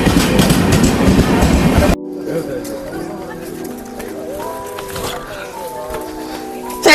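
A loud rumble cuts off into the steadier rolling clatter of a train running on rails toward Thrissur, Kerala, with faint background sounds over it.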